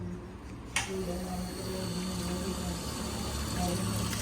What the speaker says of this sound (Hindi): अब मैं पानी वाला पंप की टेस्टिंग करेंगे, हम चेक करेंगे भाई पानी उठाता है या नहीं उठाता।